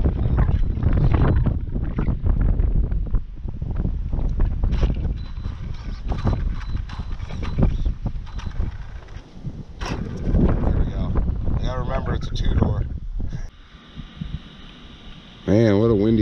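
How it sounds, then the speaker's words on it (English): Strong wind buffets the microphone in heavy, gusting roars that rise and fall throughout, with a brief mechanical rattle near the end. "Man, what a windy day."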